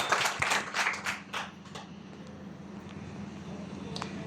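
Applause from an audience at a sales talk, a burst of several loud claps in the opening second and a half that quickly thins and fades into faint room noise.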